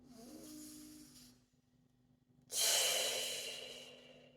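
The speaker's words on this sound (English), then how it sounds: "Deep breath in and out." A slow, deep breath sounds close and clear, with a long airy inhale that fades into a pause, then a stronger, breathier exhale that tapers away gradually.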